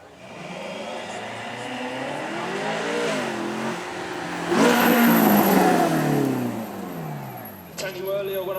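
A twin-turbo 3.9-litre V8 supercar at a supercar weekend at Beaulieu, revving loudly with the engine pitch rising and falling in long sweeps, while a voice talks over it.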